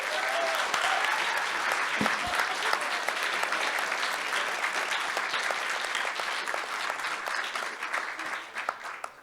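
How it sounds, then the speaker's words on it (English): Audience at a live campus debate applauds steadily for about nine seconds, a dense crackle of many hands clapping that holds strong throughout and thins slightly near the end. "Let's give everybody a round of applause"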